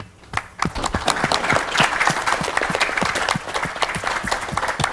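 Conference audience breaks into a round of applause after a brief quiet start, with many hands clapping densely and loudly, a few sharp individual claps standing out near the front.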